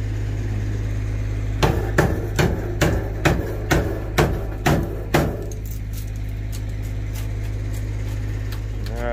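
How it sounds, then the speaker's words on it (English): Hammer-driven chisel strikes chipping material from a shed by an abandoned car lot in the woods: about nine sharp, evenly spaced blows over a steady engine-like hum, then the hum continues alone. "chiseling away all the stuff"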